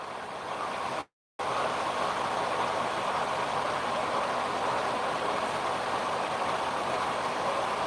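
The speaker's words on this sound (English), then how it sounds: "broken engine" A broken Detroit Diesel heavy-truck engine (DD13/DD15/DD16 type) idles as a loud, steady, unbroken rumble, cut off by a brief dropout just after the first second.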